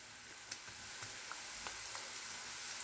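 Tapioca slices fry in oil over medium heat, giving a quiet, steady sizzle with small crackling pops scattered throughout, heard alone without talk.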